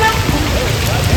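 Heavy rain pours onto a road at a bus and motorbike accident scene on the Sagar road, a dense, loud, steady hiss that fills the whole moment without a break.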